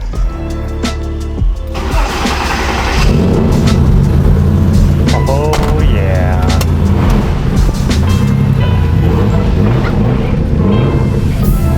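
A Nissan R35 GTR engine turns over and catches around the three-second mark, then settles into a loud, steady rumbling idle that runs to the end, with someone briefly speaking over it.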